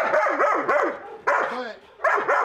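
A dog barking during K9 protection training, delivering rapid, forceful bursts of barks in three clusters with brief pauses between, close and loud.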